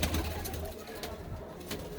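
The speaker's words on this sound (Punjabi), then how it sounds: "ਪੂਰਾ ਵਧੀਆ ਨਸਲੋਂ ਕਬੂਤਰ ਆ" Pigeons coo in low, rolling murmurs close by in Ludhiana, with scattered rustling and clatter around them.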